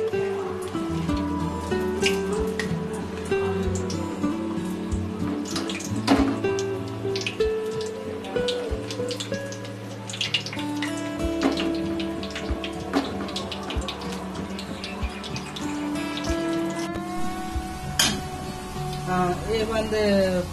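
Okra pakodas fry in hot oil on a low flame, a steady bubbling sizzle with scattered crackles heard close by under tonal background music lasting the whole stretch.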